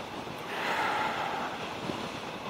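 Wind buffets a helmeted rider on a moving motorcycle, a loud, steady rush of broadband noise right at the ears, unbroken for a few seconds with no voices.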